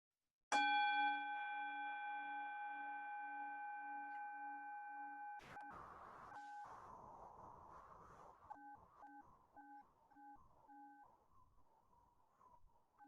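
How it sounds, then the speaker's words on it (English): A meditation bell is struck once and rings alone with a long, clear, sustained tone that slowly fades. Soft clattering and a few intermittent beeping tones follow. "when I ring the bell"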